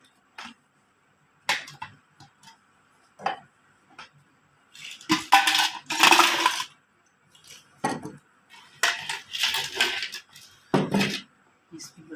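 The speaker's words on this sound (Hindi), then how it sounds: "अब मैं इसमें पानी और बर्फ़ डालूँगी।" Ice cubes clink and rattle as they drop into a glass for a homemade summer drink, arriving in several short, bright bursts with pauses between them, close by and fairly loud.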